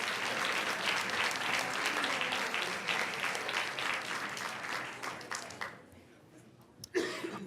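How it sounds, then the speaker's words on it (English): A crowd at a school board meeting claps steadily for several seconds, then the applause thins and fades, ending with a brief loud bump. "give this outstanding parent volunteer a big round of applause"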